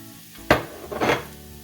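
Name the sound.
ground beef, mushroom and onion frying in skillet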